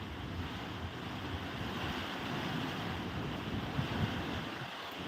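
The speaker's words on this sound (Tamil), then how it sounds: "மழை ஸ்டார்ட் ஆயிடுச்சு" A steady, dense rush of rain and gusting wind, constant and fairly loud, with no voices.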